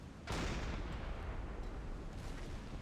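Submarine deck gun firing in Silent Hunter 5, a single loud booming shot with a sharp onset followed by a long rumbling decay that fills the short moment, no talking.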